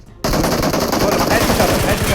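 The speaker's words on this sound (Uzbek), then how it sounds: "S12 otyapti, ehtiyot bo'ling." An S12K shotgun fires in PUBG, a rapid, loud, close burst of repeated blasts that starts abruptly after a brief near-silence.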